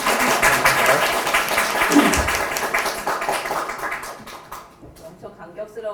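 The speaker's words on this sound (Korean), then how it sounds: "박수 한번 쳐야 될 것 같아요." An audience applauds at the end of a lecture in a hall, a dense, steady wash of clapping that carries on for several seconds, then thins out and tapers off toward the end.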